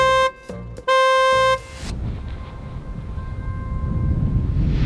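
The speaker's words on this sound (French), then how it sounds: "je commence avec le klaxon de la voiture" A stock car horn honks in two short blasts, then continues as a faint steady tone under low rumbling engine and road noise.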